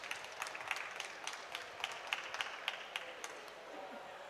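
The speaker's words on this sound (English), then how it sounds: "A round of applause for her, please." Scattered clapping from a modest crowd at an awards ceremony, a steady patter of hand claps with a few sharper ones standing out, fairly quiet and distant, fading toward the end.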